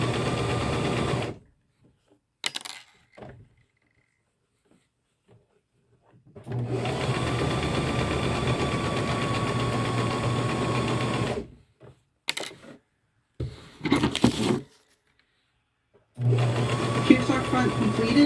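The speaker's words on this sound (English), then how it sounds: "we're just going to slide over to here and we're going to baste through all of the layers" Sewing machine basting through the fabric layers of a bucket hat, several runs of fast, even mechanical stitching, close and loud, stopping and starting with short pauses and brief bursts between them.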